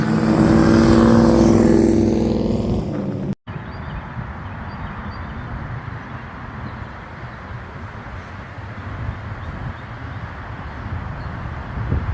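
A car driving through Daytona Motor Speedway gives a loud rising engine drone that cuts off abruptly, followed by a quieter steady road rumble and wind noise.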